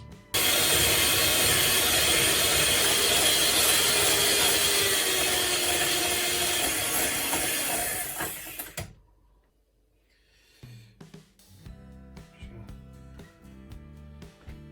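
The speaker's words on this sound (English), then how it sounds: "We're going to whisk this up so it's nice and thick." Double cream being whisked in a bowl, a loud, steady, fast scraping whir that runs continuously for about eight seconds and then stops, followed by quieter clinks and soft handling sounds.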